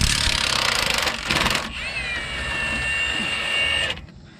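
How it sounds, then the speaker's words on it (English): Power tool with a 15 mm deep socket breaking bolts loose on a Dodge Ram steering stabilizer: a couple of loud, short rattling impact bursts, followed by a sustained high whine that winds down and stops. "next we're gonna break these four bolts right here loose."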